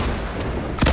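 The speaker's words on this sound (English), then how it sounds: "Rocket launcher, really?" A rocket launcher fires in the video game Fortnite, a single loud, close boom near the end of a second of steady game background noise.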